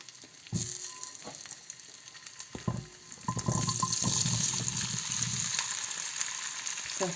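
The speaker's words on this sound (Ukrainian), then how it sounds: "Відправляємо картопельку і чуємо таке легке шкваркотіння." Potatoes hit hot oil in a pan and a steady, light sizzle builds and continues, with a few clinks and knocks at the start, close by.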